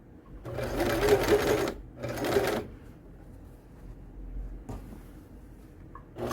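Sewing machine stitching a piped cushion cover, two close bursts of steady mechanical whirring followed by quieter pauses and a brief third run, with no talk.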